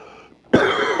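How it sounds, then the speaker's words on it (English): A single harsh, close cough from a man with a bad cold, sudden and loud after a moment of near silence, with a brief rasp trailing off at the end. "I don't mean to be coughing in your guys' ears"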